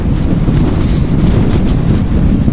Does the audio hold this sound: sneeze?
no